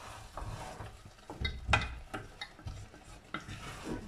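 Jaggery rice being stirred in a pot on low heat, with soft scraping and sticky stirring strokes at an irregular pace, close and fairly quiet, plus a few light clinks.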